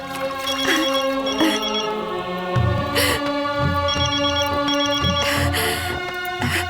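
A telephone rings with repeated bright electronic trills in bursts, loud and close, over a low rhythmic backing beat, with no voices.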